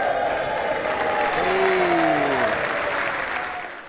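Sustained applause fills the U.S. House chamber during the speaker election, a dense wash of clapping from a large crowd of lawmakers, steady for several seconds before easing slightly at the end.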